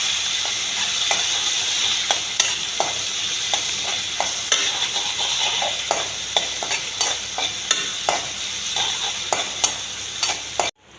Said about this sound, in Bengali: তেলের মধ্যে দিয়ে দিচ্ছি পেঁয়াজ কুচি আর কাঁচা লঙ্কা কুচি। এবার বাদামি রং করে ভেজে নেব।